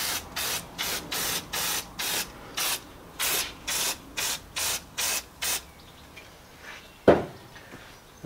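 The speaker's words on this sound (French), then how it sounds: "Là je me suis acheté des nouvelles bouteilles de nettoyant frein. C'est Motip qui fait ça" Motip brake cleaner sprayed onto a Renault Megane RS F4R engine block from about half a metre: ten sharp, evenly spaced hissing bursts, each roughly a third of a second long, then one soft thud near the end.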